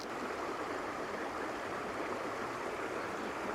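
Fast-flowing river water at a fly-fishing spot, a steady, unbroken rushing hiss that stays even throughout, fairly close and moderately quiet, with no speech.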